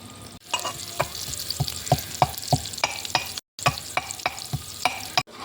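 Onions fry in a pan for a village-style Telangana dish while a spoon stirs them, giving a loud steady sizzle punctuated by regular scraping strokes, alone without talk.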